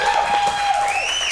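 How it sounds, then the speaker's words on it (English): Studio crowd at a movie trivia game show cheering and applauding, a continuous roar of claps and cheers with a bright sustained tone riding over it. "Good throaty crowd here today"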